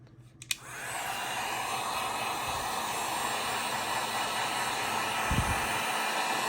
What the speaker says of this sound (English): So now I'm gonna heat it up, guys. I'm using the heat gun. I'm using it on low